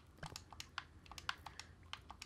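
Quick, uneven keystrokes on a computer keyboard, close and fairly quiet, tapping in short irregular bursts with small pauses between them.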